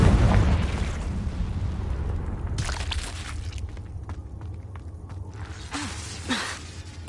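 The Confringo blasting spell in the video game Hogwarts Legacy detonates in a heavy explosion that rolls into a long fading rumble, followed by scattered cracks and pops of debris in a cave.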